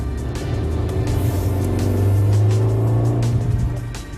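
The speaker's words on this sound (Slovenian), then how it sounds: "Za pravo mero moči ga morate gnati v vrtljaje, za nagrado pa ste deležni takšnega zvoka." A 2009 Fiat car engine with a Dualogic robotized gearbox revs hard to high rpm and climbs in pitch, a loud, close, sustained roar with rising whine, no talking.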